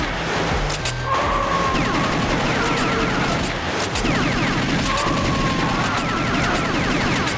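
Rapid gunfire in the arcade shooter The House of the Dead 2, dense repeated shots and impacts with game effects, loud and continuous.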